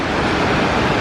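Twin Falls at Rock Island State Park pours over rocks in a loud, close, continuous rush of water, a broad steady roar with no speech.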